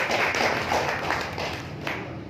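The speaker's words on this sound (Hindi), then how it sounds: "इनके लिए भी ताली बजा देना है" A small audience claps during a Bhagavad Gita discourse. The hands beat in a loose, steady rhythm, moderately loud and close, with a few sharper claps standing out and no talk over them.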